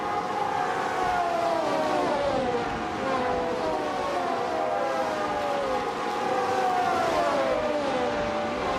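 A 1971 McLaren M19A race car in a racing video game, engine droning at high revs with repeated rising and falling pitch sweeps as it shifts through gears, steady and fairly loud throughout.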